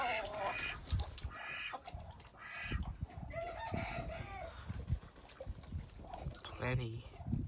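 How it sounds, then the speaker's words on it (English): Ducks in a backyard poultry yard give repeated nasal calls mixed with chickens clucking and crowing, a busy, close chorus with voices talking over it throughout. "Some more ducks."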